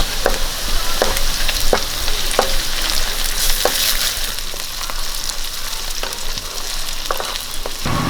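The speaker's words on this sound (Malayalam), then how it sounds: "ഇനി നമുക്ക് ഇതിലേക്ക് രണ്ട് സ്പൂൺ ഇഞ്ചി വെളുത്തുള്ളി പേസ്റ്റ് ഇട്ട് കൊടുക്കും" Ginger garlic paste fries in a hot pan with a dense, continuous sizzle, broken by sharp spoon-on-pan clicks as it is stirred, close and with no speech.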